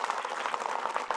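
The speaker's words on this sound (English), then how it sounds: "give a round of applause for the host one more time" Brief burst of audience applause for the host of a live talk show, a dense, steady patter of many hands clapping at moderate volume with no talk over it.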